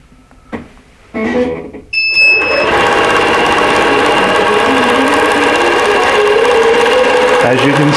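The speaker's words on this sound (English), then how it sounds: "As you can see, the machine is sewing out the design." Embroidery machine sewing out a design for a winter table runner, starting after a few handling knocks and then running loud, close and continuous with a steady rapid stitching hum and high whine.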